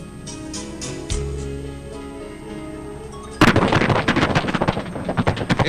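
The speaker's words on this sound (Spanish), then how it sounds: "Es el accionar de las unidades de artillería antiaérea con fuegos de superficie contribuyendo a los fuegos de la artillería de campaña." Anti-aircraft artillery units firing at surface targets during a joint military operation: a steady low drone gives way to a sudden loud burst, then rapid repeated heavy bangs close by.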